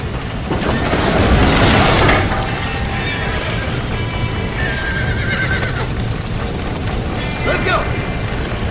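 Horses neigh and hooves clatter in the Red Dead Redemption video game, with a loud whinny near the start and another late, over a dense, constant roar of game noise.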